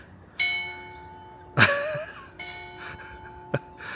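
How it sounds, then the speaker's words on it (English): Church bells of a small Abruzzo lakeside village ring out in a few distinct strikes, their long tones hanging and overlapping, with a louder clang partway through and another short hit near the end. "And the church bells."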